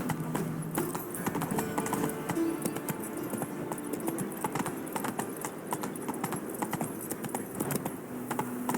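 Roach, a horse in The Witcher 3, gallops at a steady, rapid clip-clop rhythm throughout, hoofbeats close and continuous over a low ambient game background.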